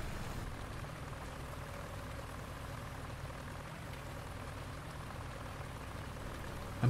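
Steady, even rain patters on a surface throughout in the video game Farming Simulator 19, a constant soft hiss with no voices.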